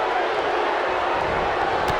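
A wrestling arena crowd roars and cheers in a dense, steady wash of noise in WWE 2K19, loud and sustained throughout.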